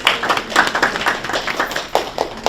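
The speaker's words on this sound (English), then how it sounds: "I mean, a great applause." Scattered clapping from a small group at a school board meeting, a brief burst of claps with uneven rhythm, moderately close, no talk over it.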